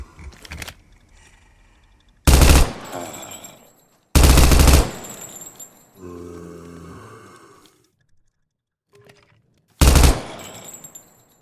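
Gunfire in a horror monster-capture video game: several loud, sharp bursts of shots separated by pauses, with a lower rumbling effect in between and no talking.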